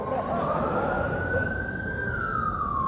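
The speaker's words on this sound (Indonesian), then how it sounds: "Bukan pakai ambulan, pakai sirine." An emergency vehicle siren wails in one long rising and falling sweep over dense road and engine rumble, loud and close.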